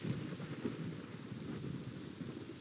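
Thunder rumbles over a swamp, a low, steady, distant roll that stays faint and continuous, with no voices.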